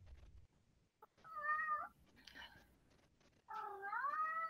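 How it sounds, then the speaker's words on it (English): A cat gives two drawn-out, wavering meows separated by a brief pause, fairly close and clear over a quiet background, with faint murmuring between them. "Or perhaps hear a cat?"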